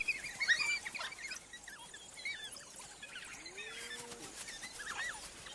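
High, twittering chirps and squeaky calls from a pack of African wild dogs, bird-like in tone, scattered irregularly over a faint background hiss.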